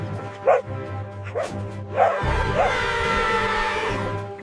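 Cartoon puppies from PAW Patrol bark together in a lively group: a few separate yips and bow-wows, then a burst of overlapping barks over a bright musical backdrop.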